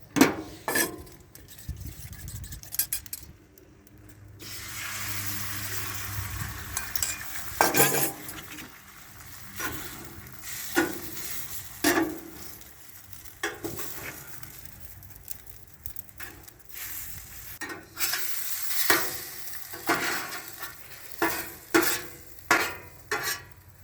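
Eggs frying on an outdoor grill after sausages come off, a low sizzle under repeated metallic scrapes and clanks of a spatula, with brief quiet gaps between bursts of handling.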